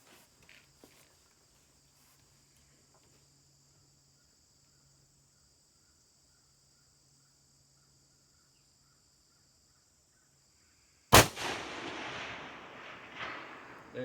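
A single sharp rifle shot fired at a long-range target cracks out after a long near-silent stretch, followed by a rolling echo that fades, with a faint second rumble.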